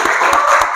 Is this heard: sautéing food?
no